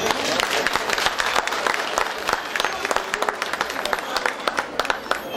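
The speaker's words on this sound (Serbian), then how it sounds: "Ja vas molim za još jedan gromoglasni aplauz za njih." Audience applause for a children's folk dance ensemble at a village flower and honey festival in Kusiće, steady dense clapping from a crowd lasting throughout, loud and close with no talk over it.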